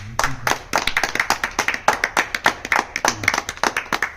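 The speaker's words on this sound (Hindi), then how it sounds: "ताली बजाओ, कस के बजाओ।" Hands clap in quick, sharp, rhythmic bursts at a political rally gathering, close and loud, with a faint voice briefly underneath.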